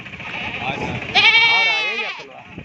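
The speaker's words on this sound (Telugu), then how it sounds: "ఇక్కడ మేకలు మేక మరకలు కూడా ఉన్నాయి" Goats bleating at a weekly livestock market in Guduru, with one long, loud, wavering bleat standing out clearly over the surrounding crowd chatter and nearby voices.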